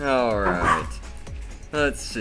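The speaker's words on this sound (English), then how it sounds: "Sorry about the barking." A dog barks several times in short sharp bursts indoors, close by, overlapping and alternating with someone talking.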